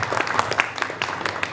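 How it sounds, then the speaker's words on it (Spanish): Audience applause at a talk or book presentation, a steady dense patter of many hands clapping throughout, fairly close and even in loudness. "Les pido un aplauso para Gonzalo, por favor."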